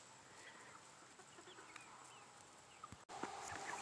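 A rooster on an off-grid homestead gives a few soft, scattered clucks and mutterings, faint and distant over a quiet outdoor background, with a sharp tap near the end.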